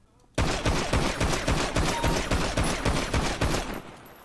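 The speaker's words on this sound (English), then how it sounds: "you can shoot that target if you want" Rapid video-game gunfire at a target on a gun range, a sustained burst of evenly spaced loud shots lasting a few seconds, starting abruptly and cutting off sharply.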